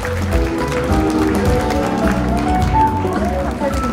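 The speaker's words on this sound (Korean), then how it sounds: "박수로 시상하겠습니다" An audience applauds steadily at the opening ceremony of a biennale at a Gimhae arts centre as an award is presented, the clapping blended with background music and a host speaking.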